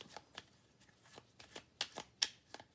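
Oracle cards shuffled for a tarot-style reading, a quiet, close series of soft rapid riffles and slaps, about a dozen brief bursts over under three seconds.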